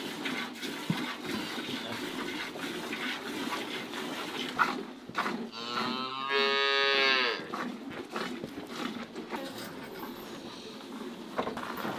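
A cow gives a single long, loud moo inside a barn, rising out of quieter shuffling and clatter, with no talk.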